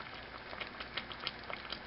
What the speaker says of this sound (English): Well, it just started to simmer